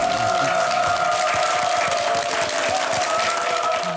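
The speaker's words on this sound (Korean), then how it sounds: "감성 컨설팅 더 감의 오상진 대표께 큰 박수" Audience applause for Oh Sang-jin, head of the emotional consulting firm The Gam, at a televised talk. The clapping is steady and sustained throughout, with a faint tonal hum running beneath it.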